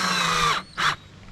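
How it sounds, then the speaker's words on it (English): A power drill backs screws out of an RV roof: one whirring burst of about half a second, a brief gap, then a second short spin, close and fairly loud. "I will be pulling these screws back out"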